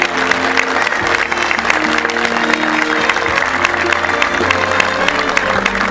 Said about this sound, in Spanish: A todos los recordamos con un fuerte aplauso.